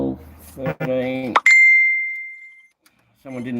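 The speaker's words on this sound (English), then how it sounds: "Someone didn't turn their phone on to silent" A mobile phone goes off during a live car repair session on a 350 Chevy-engined Jaguar head gasket refit, a single bright chime ringing out and fading between stretches of talk.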